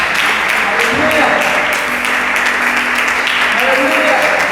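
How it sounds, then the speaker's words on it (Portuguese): A church congregation claps steadily through a worship service, the dense applause continuing evenly from start to finish while voices sound beneath it. "Aplauda o Senhor, querido"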